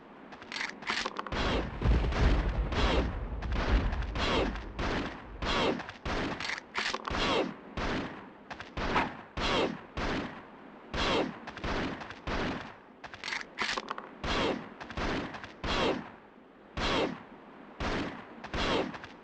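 Pistol fire in a video game, dozens of sharp, loud shots in quick irregular bursts with brief gaps, close and dry, with no talk over them.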